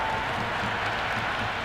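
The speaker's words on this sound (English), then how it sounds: "all these spectators here today are completely enthralled and energised, judging by that noise anyway" Stadium crowd noise in the Cricket 26 video game after a six is hit over the boundary in a Multan Sultans vs Islamabad United match, a steady, dense roar of cheering spectators filling the whole stretch without pause.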